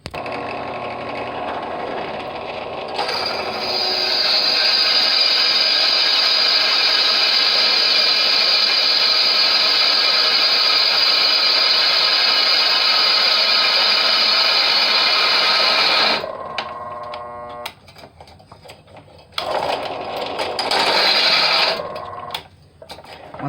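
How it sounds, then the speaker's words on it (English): A power drill biting into metal on a homemade 12.5 hp air compressor build, a loud, high, steady whine running for about thirteen seconds, then stopping and restarting in short bursts. "You just want to drill right in and it cuts just fine."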